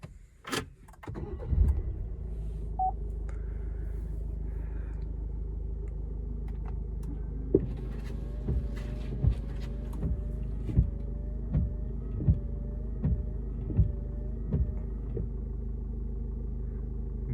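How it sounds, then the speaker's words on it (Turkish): An Opel Crossland interior with a steady low engine rumble, and a regular series of soft thumps about every second as the wipers sweep back and forth. "Sileceklerimizi hemen test edelim."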